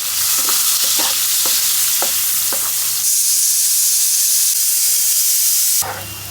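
Onions and hilsa fish fry in hot oil, a steady close sizzle with occasional stirring scrapes, the hiss brightening and intensifying midway before easing near the end.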